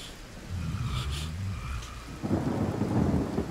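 A thunderstorm spell cast in the fantasy role-playing game Divinity: Original Sin, with rumbling thunder building and then a dense wash of rain and crackling storm noise swelling up, loud and continuous.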